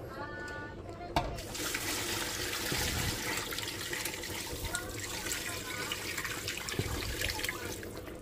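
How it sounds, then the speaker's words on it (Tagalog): Plenty of water pours into a cooking pot for boiling beef innards, a steady broadband splashing rush that runs close and loud for several seconds after a brief clink. "lalagyan natin ng maraming tubig."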